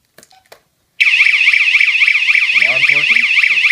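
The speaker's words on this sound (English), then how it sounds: "now what we're going to do is we're going to test the interior siren" After a few faint clicks, a PiSector indoor wireless alarm siren starts abruptly during a test, warbling rapidly up and down at close range, with a brief voice speaking underneath partway through.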